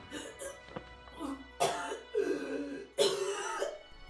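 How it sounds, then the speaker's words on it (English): Coughing in an audio drama: several harsh, throaty coughs and throat-clearing bursts in an irregular sequence, close and fairly loud, the last two the heaviest. "He heard coughing and desperate crying."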